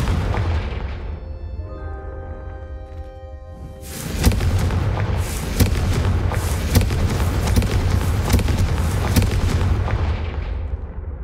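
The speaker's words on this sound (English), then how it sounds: "a Confringo cast travels a bit farther than that of a" Confringo fire spells cast in Hogwarts Legacy set off a steady run of sharp booming blasts over a dense crackling rumble, following a few seconds of soft tonal game music.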